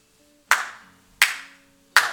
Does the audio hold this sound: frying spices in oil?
no